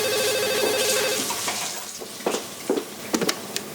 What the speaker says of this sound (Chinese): 怎么忽然从澳门打电话给我？有什么事吗？